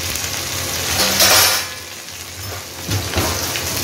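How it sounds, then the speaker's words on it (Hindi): Okra frying in a pan, a broad hissing sizzle that swells loudly for a moment, eases off, then flares again with a few soft pan clatters, no voices over it. "और अब मैं इसमें डाल दूंगी भिंडी और ये भिंडियों को तब तक पकाऊंगी जब तक ये बिल्कुल सुनहरी ना हो जाए"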